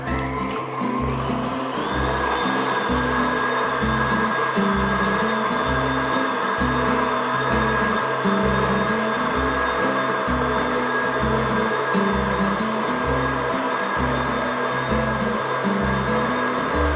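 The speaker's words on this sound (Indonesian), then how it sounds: "Ini proses pengocokan telur yang sampai mengembang kental." An electric mixer whisks eggs with cake emulsifier until thick, giving a loud steady motor whine with a regular low pulsing throughout.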